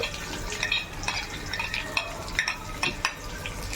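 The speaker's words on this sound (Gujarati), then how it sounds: "એને બરાબર ફ્રાય કરી લઈશું" Poha ingredients fry in hot oil in a pan, sizzling steadily while a spoon stirs and scrapes in repeated strokes, close and with no talk.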